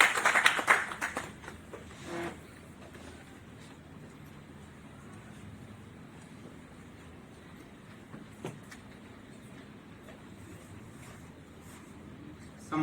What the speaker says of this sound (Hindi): एक बार जोरदार तालियां आपके लिए, आप सबकी तरफ से तालियों में वो स्वागत करें।